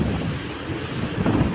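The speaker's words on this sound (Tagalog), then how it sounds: "Lakas ng hangin oh." Strong typhoon wind roars steadily at a flooded fishing village, a dense, rumbling gusting noise buffeting the microphone with no pause and no talk.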